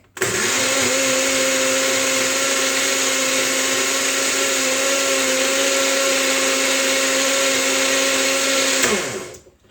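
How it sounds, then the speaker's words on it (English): A Farberware Magic Bullet-style personal blender runs loudly at a steady, high whine for about nine seconds, then spins down and stops at the end, with no talking. "We get our Magic Bullet type blender. It's Farberware from the evil store Walmart."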